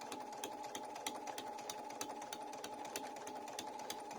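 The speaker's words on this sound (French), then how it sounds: "Je couds de manière régulière, mais pas très rapide." A sewing machine stitching piping onto fabric at a steady, moderate pace, its needle ticking in an even rapid rhythm over a constant motor whir, close and alone.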